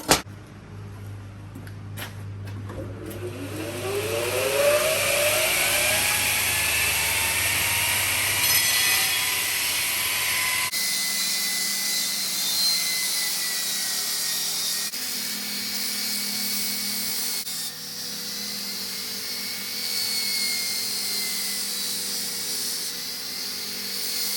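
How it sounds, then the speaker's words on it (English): An angle grinder working the edge of a homemade He-Man Power Sword prop, starting with a rising whine, then grinding steadily with shifting pitch as the disc bites and lifts, close and loud. "So now we're going to get the grinding, and here we go."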